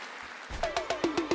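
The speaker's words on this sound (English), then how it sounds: "I'll need a little round of applause too" In-game applause from the Game Boy Advance title Advance Wars: a short, faint electronic burst of rhythmic clap sounds, about six evenly spaced hits with tonal blips, lasting around a second.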